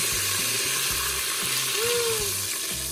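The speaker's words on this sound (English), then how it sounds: "Then I'm going to add 1 cup of water right to my pot." A cup of water is poured slowly into a hot pressure cooker pot after frying bacon, giving a steady loud hiss and sizzle with a few faint clanks and no talking.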